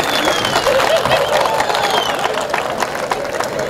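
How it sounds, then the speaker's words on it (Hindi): Audience at a Hindi comic poetry gathering in Kalamboli Sector 20 applauding, a dense, steady wash of clapping and crowd noise that stays loud throughout. "ताली बजाओ, ताली बजाओ।"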